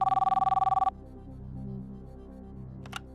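A game show telephone call rings in a rapid electronic trill for under a second, then stops, leaving a low hum and a brief click.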